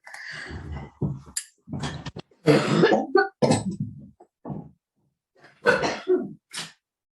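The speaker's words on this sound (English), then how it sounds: "It's empty and I'm coughing." Several bursts of harsh coughing and throat clearing, close and loud, separated by short pauses, with no talking.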